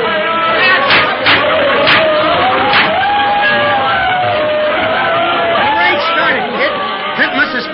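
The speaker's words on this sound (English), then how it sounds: "It's tough to get through this crowd watching the fight." Crowd at a dock noisily watching a fight, a dense babble of shouting and chatter with occasional whoops and cheers, from an old radio drama.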